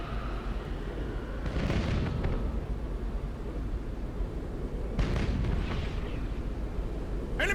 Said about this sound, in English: I'm gonna try to get you ahead, fire some missiles in there.